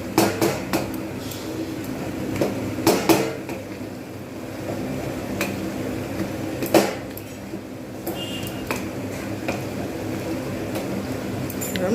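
Metal utensil scraping and knocking against a pan in irregular strokes as banana flower is stir-fried, with soft sizzling underneath and a few sharper clinks.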